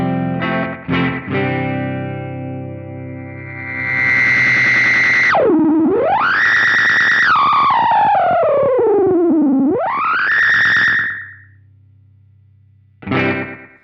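Electric guitar through a long-delay analog delay pedal, notes repeating and smearing into long echoing trails, with a swooping, warbling pitch sweep that fades into silence before a short final strum.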